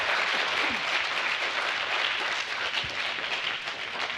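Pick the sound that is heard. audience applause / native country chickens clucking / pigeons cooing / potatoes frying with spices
audience applause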